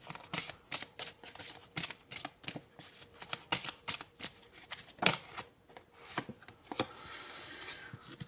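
Oracle cards shuffled by hand before one is drawn, producing a steady series of sharp, close riffling snaps and flicks at an irregular rhythm, each short and distinct, with no voices.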